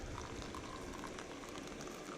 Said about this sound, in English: add your boiling water just like that